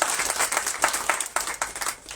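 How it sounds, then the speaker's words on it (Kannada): Audience applause rings out at a Shravana month special program at a religious math gathering, a short burst of dense, crisp clapping that rises and falls over about two seconds, with no talk on top. "ಮಹನೀಯರಿಗೂ ಒಂದು ಪ್ರೀತಿಯ ಚಪ್ಪಾಳೆ"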